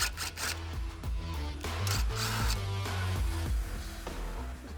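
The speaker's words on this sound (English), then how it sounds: "So remove these 2 screws." Screws are removed from the belly pan of a 2024 Mustang GT with a tool, heard as rapid rhythmic ratcheting and grinding rasps, close and continuous, without talk.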